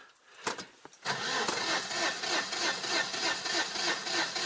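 An old car engine with the choke pulled out cranks briefly and then catches, settling into a loud, rough, steady running note that fills the rest of the clip without any talk.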